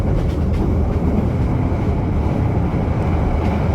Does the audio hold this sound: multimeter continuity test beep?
no